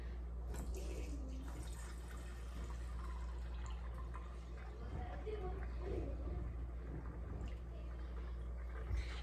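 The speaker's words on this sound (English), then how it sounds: "then you take your milk and you just pour it through the filter" Goat milk poured through a filter into a jar makes a steady, soft liquid trickle that runs continuously beneath ongoing talking.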